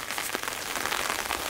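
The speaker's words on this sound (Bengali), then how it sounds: "ওনার বাড়িতে আস্তে আস্তে বৃষ্টি নেমে গেছে" Light rain falls steadily outside a village house, a dense, even patter of drops with no speech.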